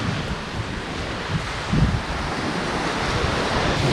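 Ocean waves wash steadily onto a New England beach, a continuous near surf roar mixed with gusty wind buffeting the microphone, with a slightly stronger surge midway and no talking.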